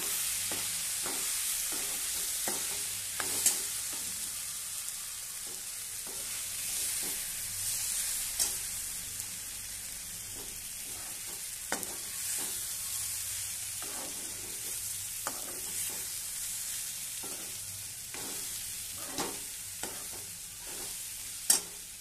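Masala spices, Malvani masala and garam masala, are stirred in a frying pan for a vatana batata rassa, with a steady low sizzle under repeated spoon scrapes and light clinks spread through the clip, alone and without talk.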